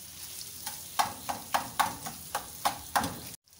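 Minced meat qeema frying on a flat tawa for a Lahori-style dish, a steady close sizzle broken by about nine sharp scraping strokes of a spatula at an even rhythm, then a sudden cut to silence.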